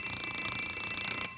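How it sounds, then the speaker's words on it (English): An alarm clock rings in a 1950s children's TV show, a continuous, loud, shrill metallic ringing that stops abruptly near the end. "When the alarm clock rings in the morning"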